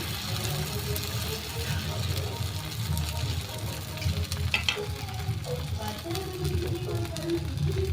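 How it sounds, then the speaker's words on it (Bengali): Patishapta pancake batter fries in a pan with a steady, close sizzle throughout. Someone talks over the frying. "দিয়ে একটু ভাজা ভাজা করছি।"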